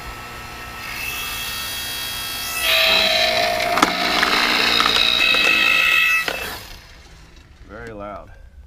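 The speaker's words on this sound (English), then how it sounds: "we'll see if this log splitter actually does its job" A log splitter working through wood during a house clean-out: a steady mechanical hum swells into a loud grinding, creaking strain for a few seconds, then drops away, followed by a brief voice at the end.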